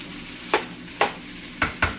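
Cauliflower sausage rice with sauce being stir-fried in a pan, with four short scraping stirs at regular intervals over a soft, steady sizzle, close and fairly loud, with no talking.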